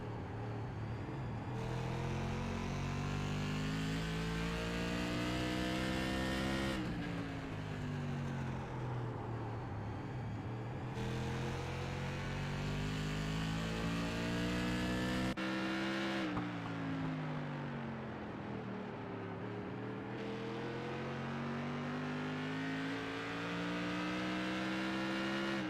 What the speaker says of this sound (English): we'll kind of give you a sound of these open-wheeled cars